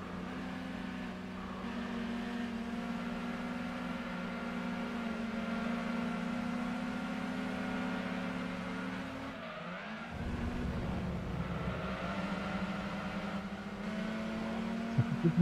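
A race car engine in a driving game holds a steady high drone with whining harmonics, then drops sharply during a gear change around the ten-second mark before climbing again, loud and close with no talking.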